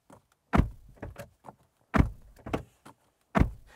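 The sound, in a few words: 2024 Chery Tiggo 8 Pro Max car door slam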